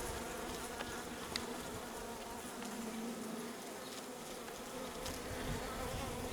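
A dense, continuous buzzing of many honeybees on a hive frame with brood, close and steady, with no voices.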